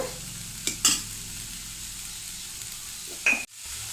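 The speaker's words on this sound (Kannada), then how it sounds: "ಫ್ರೈ ಮಾಡೋಣ. ಒಂದು 2 ನಿಮಿಷ ಮೆತ್ತಗೆ ಆಗಲಿ ಟೊಮೆಟೊ" Tomatoes fry gently in a pan, a steady low sizzle with a couple of short scraping stirs and a brief dropout at the end, with no talking.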